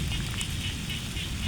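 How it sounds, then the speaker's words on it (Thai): Steady rain falls outdoors, a dense continuous patter with a broad hiss that stays even and fairly close throughout. "ฝนก็ตกอยู่นี่"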